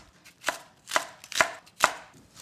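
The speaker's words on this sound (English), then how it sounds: "I already cleaned all these vegetables, just I'm going to cut first" A knife slices cleaned vegetables on a cutting board, four sharp, evenly spaced chops at close range against a quiet background, no speech.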